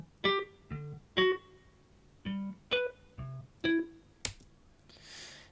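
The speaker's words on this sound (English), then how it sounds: "for that, we use another Logic instrument called, under guitars, electric guitar harmonics" Sustained electric guitar harmonics from a software instrument in Logic Pro, playing a riff of about eight separate bell-like notes that each ring briefly, with a soft noisy swell at the end.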